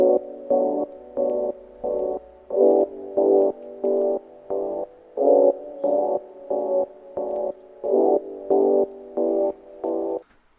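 Gated synth pad sample for an R&B beat, chopped into a steady bouncing rhythm of even on-off pulses by a Gross Beat gate, sustained warm mid tones cutting cleanly in and out, loud and alone.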